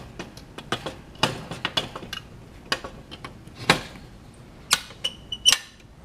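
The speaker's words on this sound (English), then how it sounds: "I'll put that oven door back on." A gas chromatograph's oven door is fitted back onto the instrument, giving a string of light clicks, creaks and metallic taps at close range. The sounds come in irregular bursts, with a few sharper latching clicks near the end and no talking.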